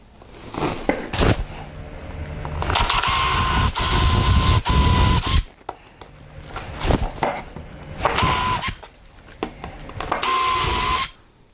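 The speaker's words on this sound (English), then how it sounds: "Now I'll drill these holes for the T-nuts." Loud bursts of a whining power drill with a high-pitched motor tone, drilling holes for T-nuts, several separate runs of a few seconds each with brief pauses and handling clatter between.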